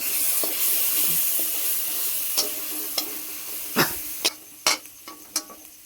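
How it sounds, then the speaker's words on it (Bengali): Mustard paste goes into a frying pan with Kashmiri chili powder and is stirred in, with a constant sizzle at first and then a run of loud, distinct scraping strokes of the spatula. "সরষা বাটা দিয়ে দেব। ভালোভাবে নেড়ে নেব।"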